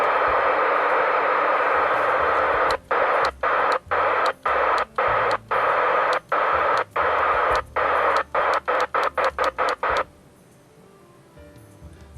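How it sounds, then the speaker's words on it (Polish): Hissing CB radio static picking up distant foreign stations in good propagation, broken by a run of short, evenly spaced dropouts that speed up, then the noise falls quiet to a faint hum; no one speaks. "dobra propagacja, więc słychać tu stacje zagraniczne"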